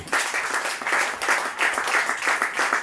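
A church congregation claps in praise of Jesus during a worship service, the applause coming in rhythmic, even bursts from many hands in a reverberant hall.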